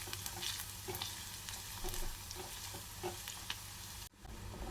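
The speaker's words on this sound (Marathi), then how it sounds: "कांदा छान परतलेला आहे." Onion sautés in a pan for a dal-onion dish. A close, steady sizzle is broken by repeated scraping stirs, then cuts off briefly near the end before resuming, with no talking.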